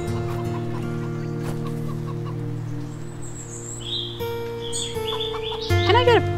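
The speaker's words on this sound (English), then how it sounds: "You sound like a chicken, though." Chicken clucking in the Wytchwood video game, a few short clucks and chirps rising near the end over a steady game music bed and ambient tones, with a voice talking faintly under it.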